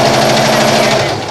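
Sewing machine stitching fabric for a face mask, running continuously at close range with a dense, steady mechanical buzz for a brief stretch, no voices.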